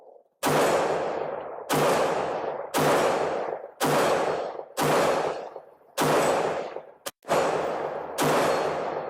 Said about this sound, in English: Let's see if we can hit it, make it ring.